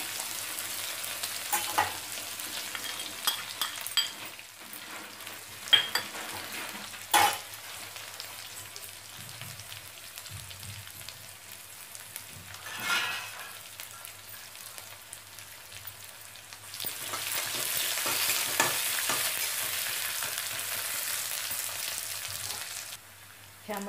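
Chili-garlic paste and curry leaves fry in hot oil for a Maharashtrian rassa vada, giving a steady close sizzle with occasional stirring clatter that swells into a louder, brighter hiss near the end.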